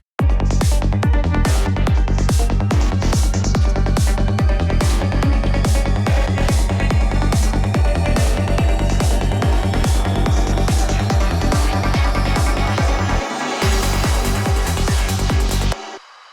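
A sine-toned synth riser slowly sweeps upward over a driving, steady psytrance drum beat, partly buried in the dense mix before the beat briefly drops out.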